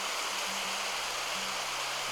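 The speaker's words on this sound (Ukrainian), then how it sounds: "Водоспадок невеликий. Від струмку, напевно." A small waterfall fed by a mountain stream on a hiking trail toward Lake Nesamovyte gives a steady, even rush of falling water that fills the whole clip with no voices.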